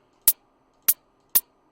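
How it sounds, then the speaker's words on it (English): Three short, crisp synthesized closed hi-hat ticks made from high-pass filtered noise, spaced evenly apart, bright and noisy, each cut off quickly, over near silence. "I also have a closed hi-hat,"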